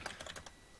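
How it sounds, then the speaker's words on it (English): Quick burst of typing on a computer keyboard during an online tabletop game session, about five faint rapid clicks in under half a second, alone. "I'm typing it out to you"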